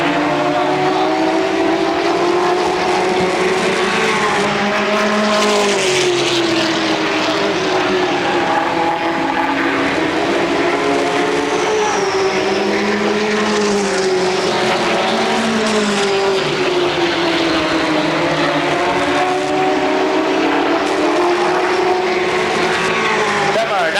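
Stock cars racing around the Motordrome Speedway, a dense, continuous engine drone rising and falling as cars circle the track, loud throughout with race commentary talking over it.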